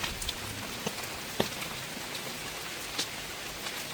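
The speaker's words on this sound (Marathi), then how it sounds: "आणि आता परत पाऊस पडायला लागला." Rain falling steadily at a home during the rainy season, a soft, even patter with occasional louder drops striking a nearby surface, fairly quiet and with no talking.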